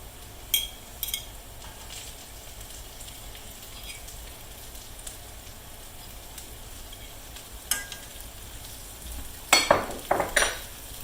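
Eggs frying in a skillet during an old-fashioned Southern country breakfast, a steady soft sizzle with a few metal utensil clinks and scraping stirs, louder clatter near the end.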